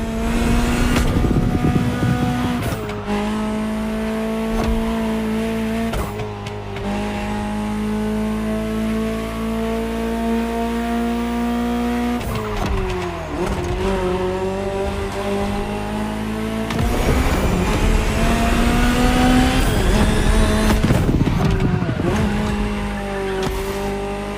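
A high-revving Ferrari supercar engine in the video game The Crew Motorfest roars continuously, shifting pitch through gear changes with occasional tire squeals, loud and close.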